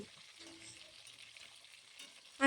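Tangra fish frying in oil, a soft, steady sizzle with faint crackles, ending in a brief utensil clink close by, with no voices.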